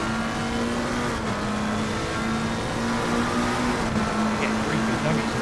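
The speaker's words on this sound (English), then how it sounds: "Flat out, he is flat out, so is Danzo, but look at the closing speed from that BMW" McLaren and BMW GT3 race cars run flat out at Spa-Francorchamps in Assetto Corsa Competizione, their engines holding a steady, sustained drone throughout while a commentator talks over it.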